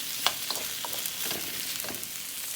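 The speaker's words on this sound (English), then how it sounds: "Right now we're just going to try to cook it all the way through and get the flavors of the onions and all the other seasonings going in here." Carne asada meat and onions fry in a pan with a close, steady sizzle and scattered small pops and crackles, with no voices over it.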